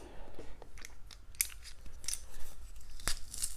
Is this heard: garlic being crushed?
yes